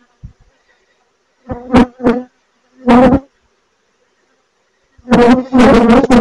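Honeybees buzz near a new hive during a colony split, passing close in several short, loud bursts separated by near silence, with a longer stretch of buzzing at the end.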